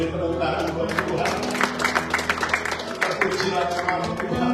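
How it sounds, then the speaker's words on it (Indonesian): Congregation clapping for God at a Sunday church service, bursts of applause over sustained music and voices from the room. "Beri tepuk tangan buat Tuhan."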